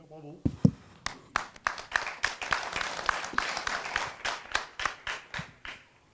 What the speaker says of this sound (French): C'est moi qui vous applaudis.